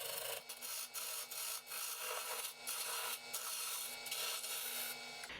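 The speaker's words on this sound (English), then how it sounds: "I remove some material so that the jig can reach as far as possible." A workpiece is cut down on a lathe, making a rough, scraping rub that repeats in short strokes with brief gaps, fairly close and alone.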